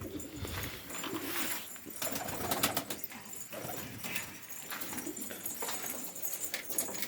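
Pigeons coo continuously in a loft, several birds calling in overlapping throaty burbles with some rustling and wing movement, close and steady, no clear speech.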